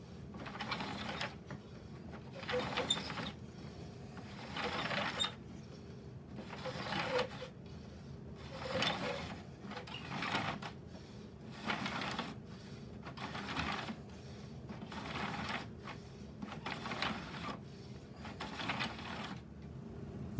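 A wooden gear-down mechanism of a mechanical model tower crane runs steadily, giving repeated bursts of clicking and ratcheting at an even rhythm, close and fairly quiet.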